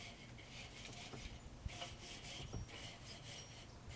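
Stiff bristles of a grill brush rasp steadily back and forth across a metal grill grate at a backyard cookout, a continuous close scrubbing with a couple of sharper knocks and no talk.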